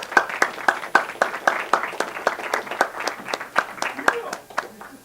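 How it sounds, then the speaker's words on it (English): An audience claps and applauds in a brisk, steady patter of hand claps at a training event, fairly close and moderately loud, fading slightly toward the end. "Big applause for Ronnie, please."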